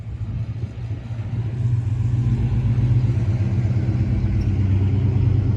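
A Ram truck on 35-inch Pioneer mud-terrain tires and 22-inch wheels rumbles close by, its low engine note steady and then swelling louder as it revs.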